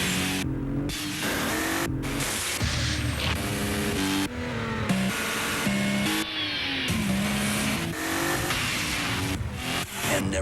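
A BMW 3 Series sports sedan engine in a TV car ad revs steadily and loudly with shifting pitch, alongside passing-car sounds and music-like tones, with no talking.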